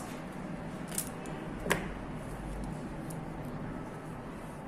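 A single sharp snip of scissors, with a fainter one just before, cuts wire while crystal bead branches are being made, against a quiet room background.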